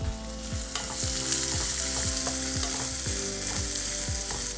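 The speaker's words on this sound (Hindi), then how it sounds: "इन प्याज को मैं ब्राउन होने तक अच्छे से भूनूंगी।" Finely chopped onion browns in a pan, a dense continuous sizzle with a regular series of spatula strokes roughly every half second, close and steady, no speech.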